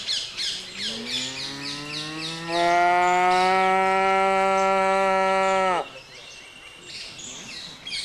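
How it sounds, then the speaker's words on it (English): Cow mooing at a pastoral site on a pilgrimage walk, one long loud close moo rising and holding for about three seconds, amid bird chirps and background voices. "All those little cows are going."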